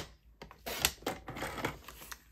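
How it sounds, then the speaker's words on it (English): Cardstock is trimmed to 3¾ by 5 inches with a paper trimmer, giving a quiet run of close, crisp clicks and short scraping slides in an otherwise hushed room. "I'm going to cut off the top, 3¾ by 5"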